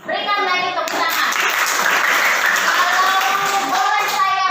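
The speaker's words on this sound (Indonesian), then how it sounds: "Berikan lagi tepuk tangan." Classroom applause from students: a burst of many hands clapping, fairly close and steady, with children's voices mixed in and adult speech at the start and end.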